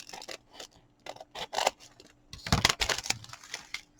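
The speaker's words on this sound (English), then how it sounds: "Now I can go through and cut these stickers out individually." Scissors snipping through a diamond painting sticker sheet from a cactus sticker kit, a series of short crisp cuts in clustered bursts, close and fairly quiet, with no talking.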